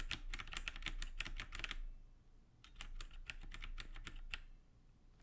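Fast typing on a computer keyboard comes as two quick bursts of dense, close key clicks separated by a brief pause, with no one talking.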